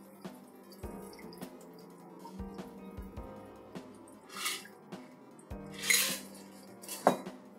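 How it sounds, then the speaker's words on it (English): Cocktail strained from a shaker tin through a Hawthorne strainer into an ice-filled highball glass: light clinks of metal and glass, soft ice rattles and brief liquid pours, quiet and close. "take a highball glass filled with ice, your Hawthorne strainer, the one with the spring that sits right on top of the shaker tin"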